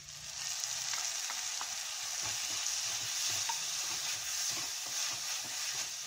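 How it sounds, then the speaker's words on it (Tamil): Ginger garlic paste sautéing in a pan for sweet corn gravy: a steady, moderately loud frying sizzle with faint stirring scrapes, running continuously with no speech. "இஞ்சி பூண்டு கொஞ்சம் நல்லா வதங்கட்டும்."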